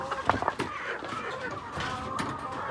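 Laying hens on a poultry farm in Africa cluck and chatter in irregular bursts, close by and moderately loud, with no speech over them.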